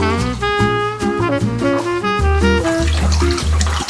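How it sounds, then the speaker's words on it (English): Cold tap water runs steadily into a kitchen sink while hot potatoes are peeled under the stream, with a constant rushing splash and no talking. "Peeling the hot potatoes under the cold water makes the process a lot faster."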